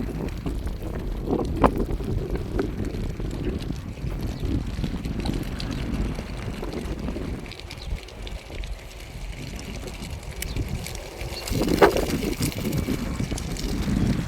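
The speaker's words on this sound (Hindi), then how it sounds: "ये जितनी तेज़ हवा चल रही है गाइस" Strong wind blowing steadily over a burning field, a continuous loud rushing roar with gusts buffeting the microphone and brief louder bursts.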